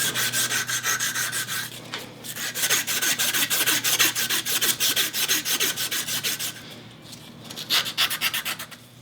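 Hand sanding of a tool steel tip in a metalsmithing shop, heard as quick rhythmic rasping strokes, close and fairly loud, in uneven bursts with brief pauses and no talking.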